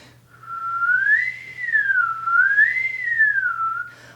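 A person whistles a single sustained tone that glides smoothly up and down in slow waves as the tongue shifts inside the mouth, close and clear with a faint low hum beneath.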